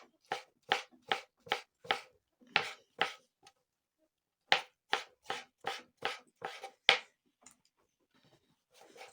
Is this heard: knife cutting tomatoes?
yes